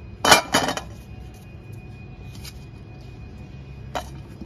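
A plate set down on a hard surface for a green tomato pickle, giving two quick close clinks near the start and a fainter single clink near the end, with no talking.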